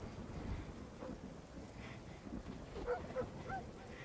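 Rain and distant thunder from a game trailer storm in a forest, a soft steady patter with low rumbling, moderately faint, with a few faint high tonal chirps over the wash and no speech.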